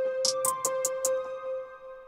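A trap hi-hat pattern built in Studio One, a quick run of five crisp ticks in close succession over a sustained tonal synth note, quiet and isolated.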